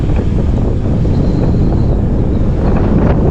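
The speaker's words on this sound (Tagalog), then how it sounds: "Malakas talaga dito ang hangin" Steady, loud wind buffeting the microphone beside a highway, a continuous low roar with no pauses and no voices.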